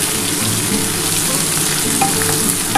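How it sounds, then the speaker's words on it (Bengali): Pointed gourd and onion fry in a hot pan, giving a loud, steady, unbroken sizzle throughout with no voices. "পেঁয়াজটা দিয়ে কাঁকরোলটা একটু হালকা করে ভেজে নিই"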